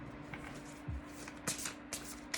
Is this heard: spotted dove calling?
no